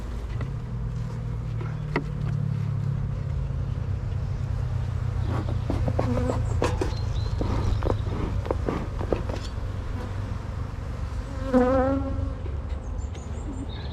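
Honeybees buzzing loudly around an opened, very busy beehive, a continuous dense drone close by with occasional handling clicks and a passing louder bee.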